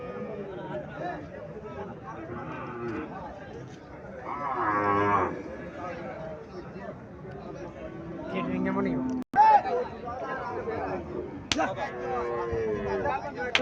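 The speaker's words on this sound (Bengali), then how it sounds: "এখানে একটা দেশি গাবি দেখা যাচ্ছে।" A local desi cow moos a few times amid a busy outdoor cattle market scene, with people talking nearby throughout.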